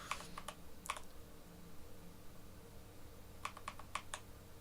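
Keystrokes on a computer keyboard, WASD keys pressed during game play, come in two quick bursts of clicky taps, a cluster at the start and another near the end, with quiet room hum between.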